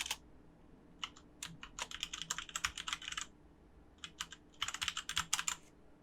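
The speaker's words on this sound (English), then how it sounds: "I'm going to type my email address" Close, quiet computer keyboard typing in quick bursts of rapid key clicks with short pauses between, no talking.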